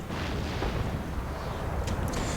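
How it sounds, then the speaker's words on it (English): Cannons bombard city walls during a siege in Empire: Total War (Darthmod), a dense, steady roar of distant artillery blasts and rumbling explosions with no clear gaps. "we're going to have our cannons set to attack the wall there."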